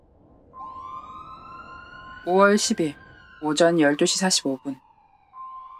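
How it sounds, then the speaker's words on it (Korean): Fire truck siren at a farmhouse, a wavering electronic wail sweeping up and down at moderate distance, mostly beneath a voice speaking. "농가의 소방차의 사이렌 소리가 울려 퍼졌습니다."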